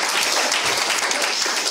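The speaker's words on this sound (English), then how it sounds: "you can clap for this" A short, dense burst of audience applause at a lightning talks and closing remarks session, a steady wash of many hands clapping at moderate loudness with no voices over it.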